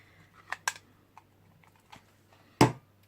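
A handheld craft punch stamping bat shapes out of paper or card for Halloween cake toppers makes a few sharp, close clicks and snaps, ending in one louder crunching punch against quiet room noise.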